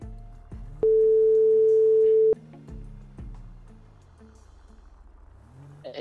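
A phone call in GTA 5 RP: a flat, steady electronic tone holds for about a second and a half, with softer blips and game engine hum around it, loud and close.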